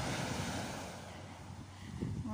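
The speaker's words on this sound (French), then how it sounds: "Donc aujourd'hui, elle est très calme, la mer." A calm sea on a windless, sunny day laps softly in a low, steady wash, with a brief voice sound near the end.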